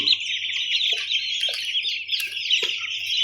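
A flock of young Big 6 turkey chicks peeps continuously in a dense, high-pitched chorus, with a few louder individual cheeps breaking through.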